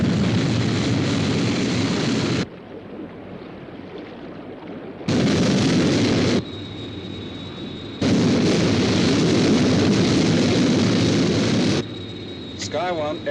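A Sky 1 interceptor aircraft takes off in a TV sound effect: a loud roaring jet blast that cuts in and out in bursts, with quieter gaps and a faint electronic whine between them.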